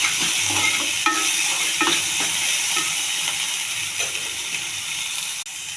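A curry with flat beans and leafy greens fries in a pan, a constant close sizzle and steamy hiss with scattered scraping stirs and clinks against the pan, no voices over it.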